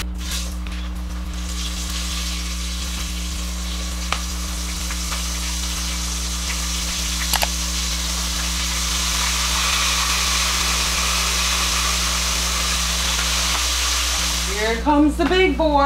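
Hot oil sizzles loudly and steadily throughout as battered fish fries, a bright crackling hiss close by, with a person speaking briefly near the end over the frying.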